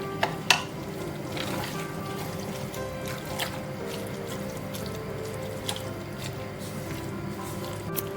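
White sauce pasta is stirred in a pan after pasta cooking water is added, giving continuous wet squelching and sloshing with occasional sharp utensil taps against the pan, close and moderately loud.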